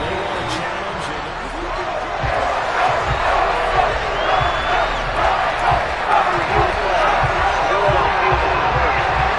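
A football stadium crowd roars and shouts in a dense, steady wash of voices as a replay is shown, with a commentator speaking over the noise.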